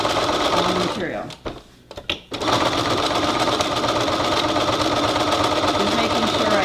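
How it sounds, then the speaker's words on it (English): A sewing machine runs a wide zigzag basting stitch through quilted oven mitt fabric, humming steadily and loud up close, with a brief pause partway through. "I just put it on my largest basting stitch as possible on the machine, and I just zigzag back and forth on the material."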